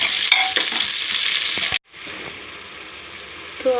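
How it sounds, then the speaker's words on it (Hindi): Peas and carrots frying in a pan for pulao, a steady bright sizzle that drops out for a brief moment near the middle, then resumes with light stirring scrapes. "तो अब इसमें हम डाल देंगे मटर, और गाजर, और उसको थोड़ी देर और फ्राई होने देंगे"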